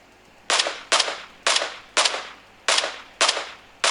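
Seven sharp gunshots from PUBG Mobile crack out at roughly half-second intervals, each loud and punchy with a short decaying tail, heard alone without talk.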